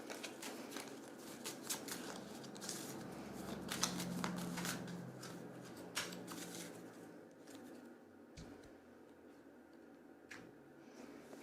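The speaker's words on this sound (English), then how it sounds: "I'm going to pull an oracle card." Oracle cards shuffle by hand in a run of quiet, close riffling and soft slaps over several seconds, easing off toward the end.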